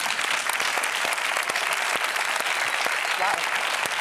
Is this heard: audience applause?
yes